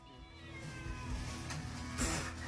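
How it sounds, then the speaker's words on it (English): Cats meowing repeatedly, loud and close, with overlapping cries and a sharper yowl near the end. "Cats!"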